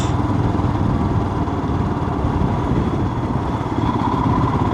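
A motorcycle rides through a village, its engine a steady, loud mid-range drone that holds throughout with no talking.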